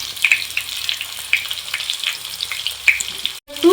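Washed potatoes drop into hot oil in a pan and sizzle steadily, a close, continuous frying hiss with scattered pops and crackles, briefly cutting out before resuming near the end.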